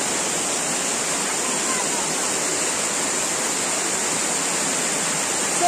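A small jungle waterfall near a temple in Goa rushes in a steady, dense roar of falling water, continuous and fairly loud from start to finish.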